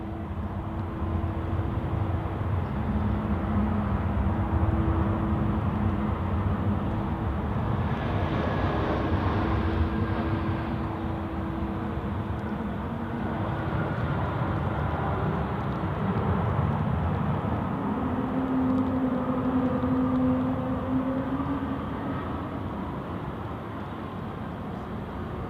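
A Swiss A350 airliner rumbling through its takeoff roll at Zurich Airport, a steady, heavy engine roar that holds loud and continuous throughout, with a brief rising whine partway through.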